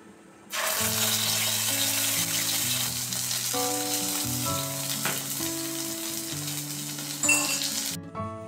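Cardamom, cloves, cinnamon, dried red chillies and bay leaves frying in hot oil give a steady, close sizzling hiss that starts abruptly and runs throughout, with a layer of tonal background music underneath.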